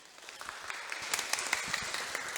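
An audience at a school meal-allergy report meeting claps after a speech, scattered soft hand claps building into moderately light, uneven applause.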